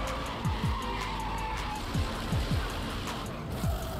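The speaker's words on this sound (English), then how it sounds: "Man, this car sounds so mean." A race car in the Need For Speed online video game drives hard, its engine roaring steadily while tires squeal in several short bursts, loud and close with no talk.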